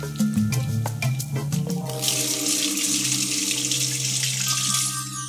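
A kitchen tap runs while hands are washed after mashing enchilada ingredients, with a few clinks and rhythmic knocks first, then a steady, close gush of water that continues to the end.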